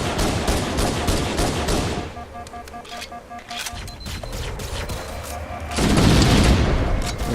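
Dense gunfire and booming explosions from a firefight against a Banshee aircraft in Halo: Combat Evolved, a loud barrage that eases into lighter shots and electronic tones before erupting again into a heavy blast.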